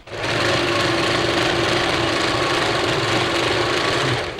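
A sewing machine stitches the lining of a silk pattu pavadai in one continuous, fast, close whirr with a steady mechanical chatter. It runs alone for several seconds and then stops.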